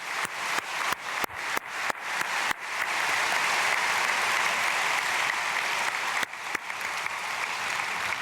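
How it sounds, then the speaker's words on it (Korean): Congregational applause at an early-morning church prayer service, starting with a few sharp individual claps before swelling into sustained, even clapping from a large crowd, then thinning out near the end. "우리 박수 축복하겠습니다."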